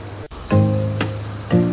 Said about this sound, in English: We got a lot more crickets, which is nice to see.